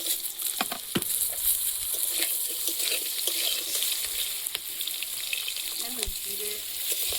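Five-spice tempering fries in hot oil in a wok, making a continuous crackling sizzle broken by scattered sharp pops and the clinks of stirring.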